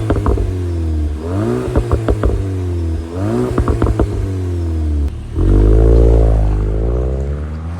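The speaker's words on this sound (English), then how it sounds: "So if you put the car in sport, comfort, and then sport really quickly, you'll get a different exhaust note" A 2026 Volkswagen Golf GTI in sport mode revs repeatedly: loud close exhaust blips rise and fall with crackles, then a longer sustained throaty drone swells and settles.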